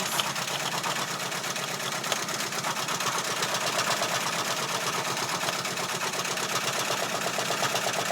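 A sewing machine stitches a hat in a steady, rapid mechanical chatter that runs continuously at even loudness, with no talking over it.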